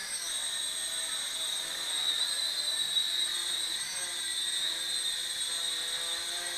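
A Sky Viper X-Quad toy quadcopter drone flying and spinning in pirouettes, its rotors giving a steady high-pitched whine that rises and dips slightly as it turns, heard close and continuous.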